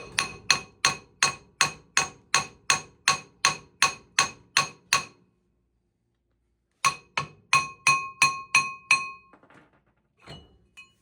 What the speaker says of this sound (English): using the hammer to kind of vibrate and shock the drum